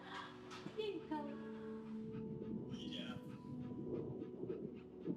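A dog pants and gives soft whimpers and yips close by in a quiet room, and brief background speech sounds partly overlap it.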